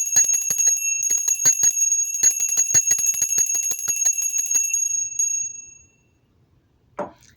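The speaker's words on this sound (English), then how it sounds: "I am going to clear the bell in 3, 2, 1." A bell rung for energy clearing rings out loud and sustained with rapid repeated strikes, a bright metallic tone that fades away, followed by silence and a brief thump at the end.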